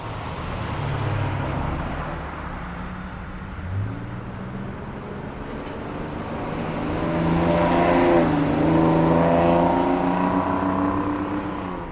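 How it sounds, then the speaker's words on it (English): Heavy fire engines rumble past on a Washington road after a helicopter departure, engine drone building and revving as they pass fairly close, with traffic noise underneath. "and now come the fire trucks, and well, we always like fire trucks"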